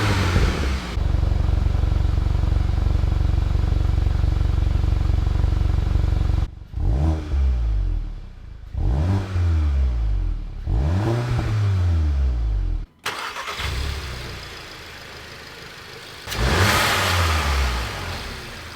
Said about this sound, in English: Nice cold start stock so you guys can hear it.